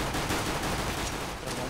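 Dense, loud gunfire from a Counter-Strike: Global Offensive match forms a continuous harsh wash of shots with no voices.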